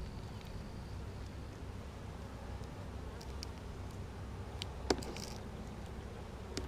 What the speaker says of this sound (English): Got a bee in there.